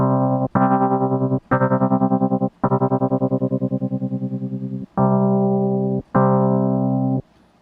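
Rhodes electric piano plays a series of sustained chords whose volume pulses rapidly in a wavering tremolo at full depth, loud and close.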